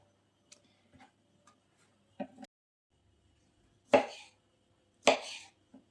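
A knife chops through tomatoes on a cutting board, giving a few sparse, sharp taps at first, then two louder, firmer cuts spaced about a second apart in a quiet kitchen.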